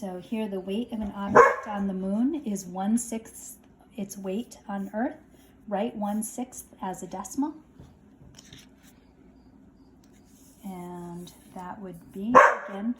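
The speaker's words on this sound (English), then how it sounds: "sorry for the dog, I think he's barking at birds outside." A dog barks indoors at birds outside, a few sharp barks popping up now and then beneath a steady stretch of a person speaking.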